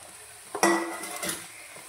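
Drumstick pieces tipped into a pan of softened onions and stirred, a short soft clatter and scrape lasting about a second.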